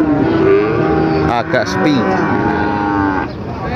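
Cattle low close by at Pasar Pon Jaken, a livestock market in Pati, with a long moo rising above the crowd noise while someone speaks.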